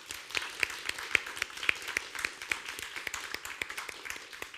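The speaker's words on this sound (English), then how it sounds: "So please, another round of applause for Eugenia Chow." Applause from a conference audience after a keynote address, a steady patter of many hands clapping at moderate loudness with sharp individual claps standing out, no talk over it.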